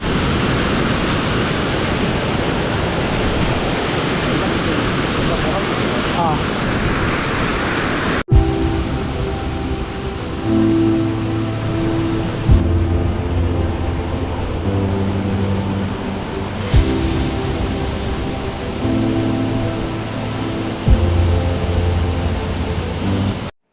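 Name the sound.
waterfall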